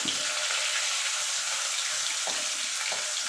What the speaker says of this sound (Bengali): মাছ দুটো দিয়ে দেবো মাছ দুটো দিয়ে ভেজে নেবো